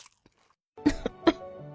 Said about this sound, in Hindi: वो जोर जोर से खांसने लगती है